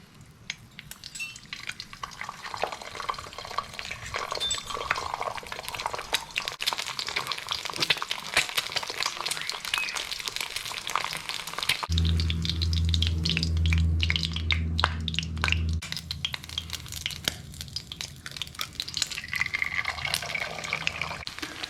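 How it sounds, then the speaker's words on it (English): Beef stir-frying in a fair amount of hot vegetable oil for Thai basil pad krapow, with steady crackling sizzle and spatter up close and a few brief stirring scrapes. "I've got a fair bit of oil in here, like I say, some vegetable oil, and we're just going to quickly cook it up."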